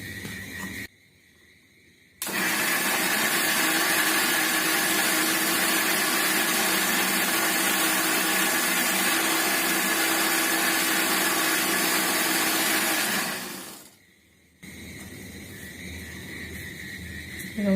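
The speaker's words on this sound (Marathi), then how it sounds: "टोमॅटो, कांदा, लसूण, आलं आणि कोथिंबीर आता मिक्सरला लावते मी" An electric mixer grinder runs loud and steady for about eleven seconds, grinding tomato, onion, garlic, ginger and coriander into a masala for prawn curry. It starts and stops abruptly, with quieter room sound before and after.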